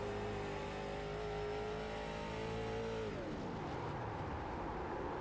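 A race car engine in the iRacing sim at Nashville drones steadily at high revs, then sputters and winds down as it runs out of fuel, leaving only a fainter background engine hum.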